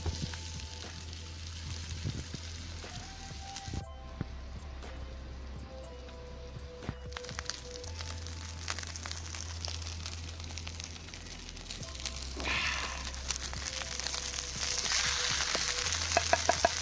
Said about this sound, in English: we have the frying pan for these fantastic burgers